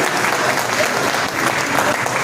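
Audience at a Hindi poetry recital breaks into loud, steady applause, a dense wash of many hands clapping continuously throughout.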